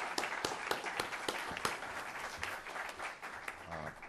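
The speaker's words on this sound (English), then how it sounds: "I asked you to join me now in giving a round of applause to the whole panel up here." Audience applause for a panel of speakers at a policy forum on helping cities, a dense steady patter of many hands clapping at close-to-middle distance, sustained throughout without a break.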